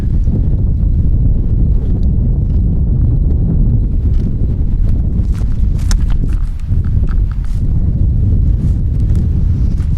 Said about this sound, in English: it's a little breezy. The wind blew my camera over.